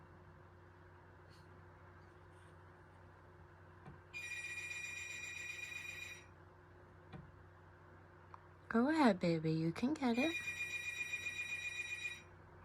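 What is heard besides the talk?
house phone ringing in the background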